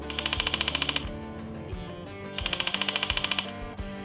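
A Snow Wolf AUG A2 airsoft gun fires two quick bursts of rapid, evenly spaced mechanical clacks, fed by an upgraded, more powerful motor. The shots are close and sharp, with a short mechanical pause between the bursts.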